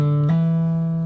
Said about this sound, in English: you want to do a hammer on the 4th string